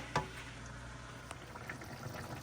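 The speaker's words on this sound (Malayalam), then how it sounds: "നല്ല വെള്ളം തിളയ്ക്കുന്നുണ്ടല്ലേ" Steady broadband bubbling and hiss of water boiling in a covered pot of dried tapioca, with a brief clink near the start and faint irregular pops throughout.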